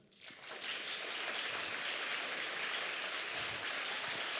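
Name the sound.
audience applause for Matej's left drawing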